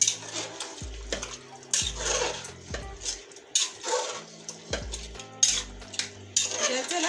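Clanks and scrapes of metal against a cooking pot as beef goes in for an Eid beef korma, with wet splashy pours in bursts and gaps between, near and moderately loud.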